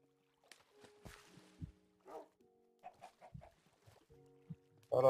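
Chickens in Minecraft giving short, scattered clucks, close and fairly quiet against near silence, with a few other game sounds mixed in.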